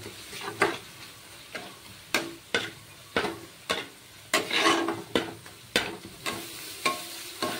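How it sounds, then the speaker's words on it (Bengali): Ground spices, cumin and coriander powder, frying in a pan for a fish curry, stirred with regular scraping strokes about every half second over a quiet sizzle, close and clear. "এবার আবারও মশলাগুলোকে আরো মিনিট 2-1 মতো ভেজে নেব"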